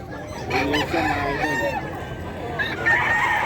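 A Sweater gamefowl rooster crows close by at a busy pet market, one long rising-and-falling cock-a-doodle-doo over a dense crowd murmur, with other fowl clucking faintly in the background.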